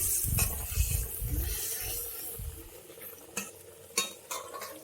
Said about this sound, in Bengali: দিয়ে আমি একটু নেড়ে নিচ্ছি